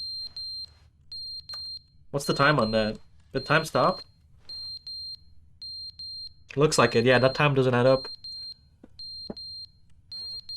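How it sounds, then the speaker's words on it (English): A fire alarm in The Stanley Parable Ultra Deluxe emits short, high, evenly spaced electronic beeps that repeat through the stretch, while voices talk over them in a few bursts. "What's that beeping sound? Check behind the wall. Oh, it's the fire alarm."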